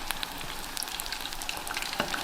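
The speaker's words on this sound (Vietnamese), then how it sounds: "chiên trong khoảng từ 3 cho đến 5 phút tùy theo kích cỡ của miếng thịt gà" Chicken pieces coated in batter deep frying in hot oil, a steady close sizzle with scattered crackling pops throughout, no voices.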